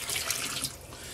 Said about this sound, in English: I have good tap water here.